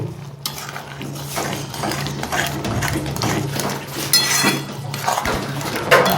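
A utensil stirs mustard-paste Lotte fish curry in a pot with steady scraping and clinking against the metal, over a continuous background sizzle, with no talking.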